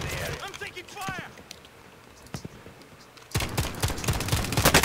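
Automatic gunfire in a shooter video game crackles in rapid bursts, with a sharp volley at the start, scattered shots in between and a loud sustained barrage at the end, while a player shouts over the first part.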